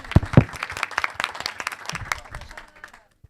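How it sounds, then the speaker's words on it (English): Brief applause from a workshop audience greeting the first group to present, a short burst of clapping that fades out over a few seconds, with some voices mixed in. "Big applause for the first group"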